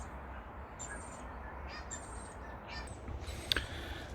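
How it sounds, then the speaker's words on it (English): Crows caw in a garden after a storm, with several harsh calls spread across the clip over steady outdoor background noise, one louder and closer near the end. "They're hanging out with the crows."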